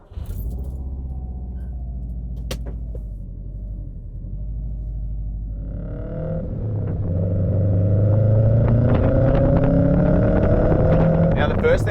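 A Subaru WRX fitted with coilover suspension driving on a road, its low engine rumble and road noise steady and then building as the car speeds up, heard from inside the cabin without talk.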